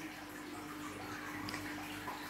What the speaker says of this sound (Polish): Tutaj jak widać, woda sobie pięknie leci.